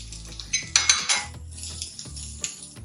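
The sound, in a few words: onions and carrots added to hot oil in a pan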